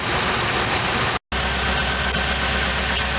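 A 1986 GMC Jimmy K5 truck engine idles steadily and close by, a constant low rumble with one brief cut of silence partway through.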